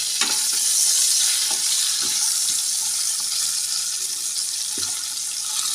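A rohu fish head is flipped in a kadai of hot oil, with scraping, knocking utensil strokes over a dense, steady sizzle, heard up close and without speech.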